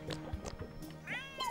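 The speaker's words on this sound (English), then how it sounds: "there's a cat right there" A cat meows in the video game Chicory: A Colourful Tale, giving a short rising-and-falling mew near the end of a brief burst of game sounds, close and clear with no talking.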